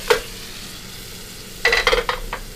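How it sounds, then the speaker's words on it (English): Hot serving plate sizzling with lemon and herb sauce in a restaurant kitchen, a short hiss at the start followed by a louder burst of crackling sizzle with a few spits near the end. "Now we sizzle the plate, so when it comes to you, it's very hot."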